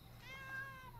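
A cat gives a single drawn-out meow, fairly close and clear, rising and then falling in pitch over a steady low hum.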